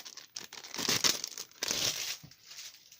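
A gifted roll of self-adhesive scrapbooking ribbon is handled in its packaging, giving close, soft crinkling and rustling that rises and falls in uneven bursts.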